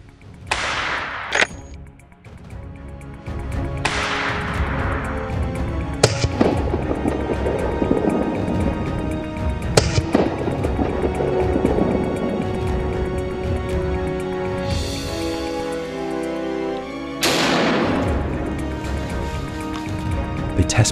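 Browning and Winchester rifles fired at a shooting range in Wales, several sharp separate reports spaced seconds apart over a steady background bed of music or ambience.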